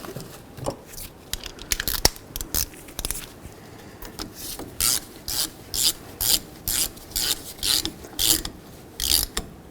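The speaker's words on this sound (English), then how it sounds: "we'll start the bolt in here and snug it up." Banjo bolt being threaded into a brake caliper on a Dodge Journey, heard as a run of short, close ratchet clicks and scraping strokes in a steady rhythm, with no voices.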